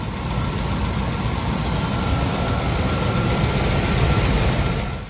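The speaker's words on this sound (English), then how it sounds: "I'm going to start the motor now and we'll see what happens." A Dodge B350 Ram Van engine idles at a steady, close, loud rumble for the whole stretch, with no talking over it.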